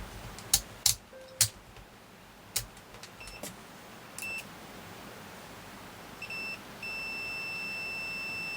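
A multimeter checks continuity on an Earth Invaders retro handheld game being repaired for no power: several short sharp clicks and pips, then a few brief beeps and a longer sustained tone near the end, with no speech.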